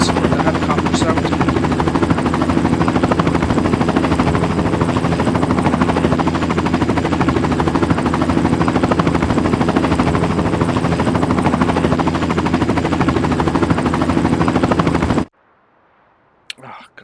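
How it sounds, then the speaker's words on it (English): Helicopter rotor thudding in the farming game Farming Simulator 19, a loud, steady chop filling most of the span before cutting out abruptly near the end. "Apologies for the helicopter sound."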